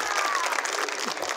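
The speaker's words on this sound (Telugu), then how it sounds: "క్లాప్స్ అమ్మా" A studio audience at a televised game show claps in a brief burst of dense, steady applause.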